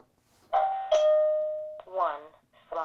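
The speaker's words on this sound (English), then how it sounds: "the chime feature is on, and that's why we're hearing it say front door" An UltraSync security panel chimes a doorbell-like tone, then a synthesized voice announces that the front door has opened. The tone is clear and sustained. A person speaks briefly afterward.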